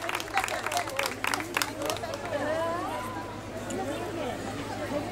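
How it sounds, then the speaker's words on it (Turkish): A crowd applauds and chatters at a pickle festival in Orhangazi, Gedelek, with scattered clapping early that fades into general murmur and babble. "Alkışlarınızla elbette."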